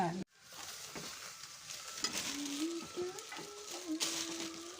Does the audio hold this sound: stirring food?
yes